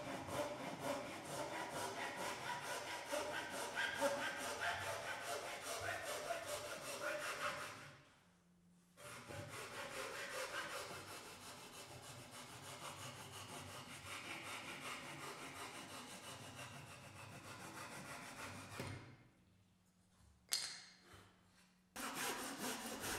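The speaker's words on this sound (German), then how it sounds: "kann hier auch gegen die Faser gesägt werden" A hand saw rasps through wood against the grain in fast, steady back-and-forth strokes, cutting a mitred mortise-and-tenon joint, with two brief pauses before the cutting resumes.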